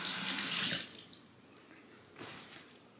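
Tap water splashes steadily into a sink to wet a scrubbing pad, loud at first, then easing to a softer trickle, with a small clink at the end.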